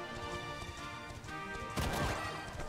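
Horse hooves in Dragon Quest 11 clip-clop at a steady pace over game music, then a loud crashing impact breaks in near the end.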